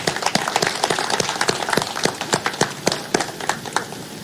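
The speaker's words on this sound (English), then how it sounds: "Let's welcome him with clap." Sparse, uneven clapping from an audience welcoming a speaker at a formal event, individual claps distinct and moderately near, with a faint murmur of voices underneath.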